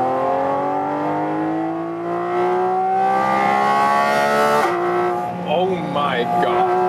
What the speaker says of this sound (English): since we have this special air intake, this creates so much sound